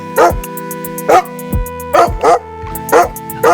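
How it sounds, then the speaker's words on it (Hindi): Dog barking in a series of sharp, loud barks, roughly six spaced irregularly over a few seconds, over a constant tonal background hum. "ये कुत्ता हमें बुला रहा है।"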